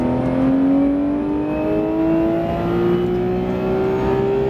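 A Porsche 991 GT3 RS accelerates hard at full throttle, its engine loud and close, the pitch climbing steadily in one continuous rising roar through the gear.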